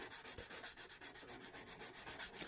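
A carved wooden spoon rubbed with horsetail stems (Equisetum hyemale) as a natural fine-grit abrasive, giving quiet rhythmic back-and-forth scratching strokes, about five per second, close up.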